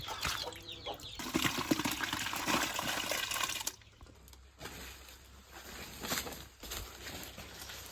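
Water splashing and pouring while freshly cut fish are washed outdoors during wild cooking, a loud, busy rush of liquid that eases into a quieter trickle.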